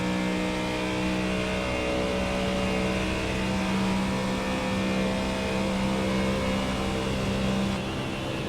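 Race cars in the iRacing simulator at the Nürburgring drone on continuously, with steady engine tones and a faint pitch waver under a constant wash of noise and no talking.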